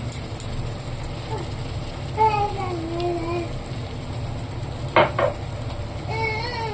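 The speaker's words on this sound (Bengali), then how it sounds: "এই যে মশলাটা এখন ভালোভাবে কষিয়ে নেব" A masala of ginger, dry chilli and garlic paste fries in a pan for a chicken dish, sizzling steadily under sparse light clinks and one sharp metallic scrape, with a faint voice in the background.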